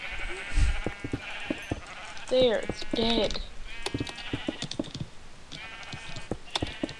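Several sheep bleating in the video game Minecraft, repeated close wavering bleats overlapping one another, with a person talking briefly over them and clicking in the background.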